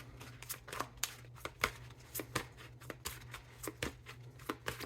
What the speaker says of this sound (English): So we're going to pull 9 cards face down.